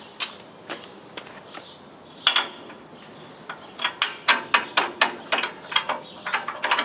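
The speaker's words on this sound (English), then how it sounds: "You just pull this hitch pin to release, and it pops back into place." A Yakima FourTimer bike rack's hitch pin is pulled and the rack snaps back into place, giving a series of sharp, close metallic clicks and clacks that quicken toward the end.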